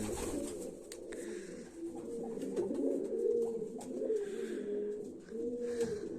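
Several pigeons in a loft coo continuously in low, throaty rolls, overlapping one another close by with faint fluttering and scratching in the background.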